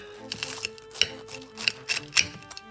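Knife and cutlery clinking against a plate as a molten Scotch egg is cut open, a few sharp metallic taps and scrapes scattered over a quiet background.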